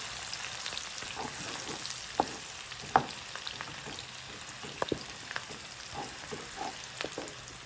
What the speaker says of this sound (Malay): Dan kita tumis bawang merah ni.